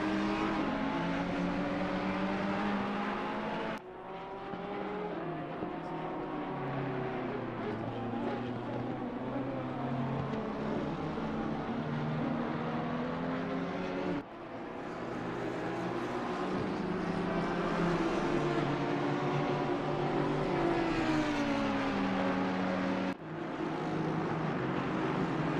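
GT3 race cars lap the Nurburgring in the racing game Assetto Corsa Competizione, a moderately quiet engine whine rising through the revs with sharp breaks at several gear shifts.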